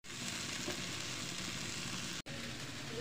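Food fries steadily in a hot pan before going into a pressure cooker, a loud, dense, continuous sizzle close up with one brief cut near the end.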